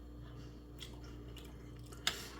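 Quiet chewing of a bite of a Dollar Tree pasta dish with Parmesan cheese, soft wet mouth sounds with one sharper crunch near the end, close and without talk.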